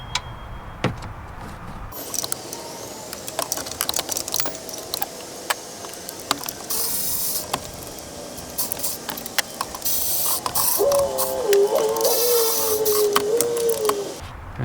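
A ratchet or breaker bar works loose stubborn bolts on a Chevy belt tensioner, sharp metallic clicks and clanks close by in irregular bursts, with a whining mechanical tone rising near the end and no talking.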